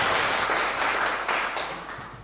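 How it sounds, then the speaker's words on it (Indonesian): Church congregation at a GBI service gives a round of applause to God, a full, continuous wash of clapping from many people filling the room, easing off slightly toward the end. "Berikan tepuk tangan sekali lagi buat Tuhan."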